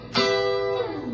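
A single electric guitar chord picked sharply and sustained, then slid down the neck so the pitch drops audibly before fading, close and clean with no voices.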